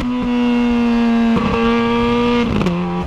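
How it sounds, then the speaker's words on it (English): A Ferrari 430 Scuderia V8 with its exhaust valves open runs loud and close, its engine note stepping sharply through two quick downshifts with crackling blips. "the downshifts when the valves are open are amazing"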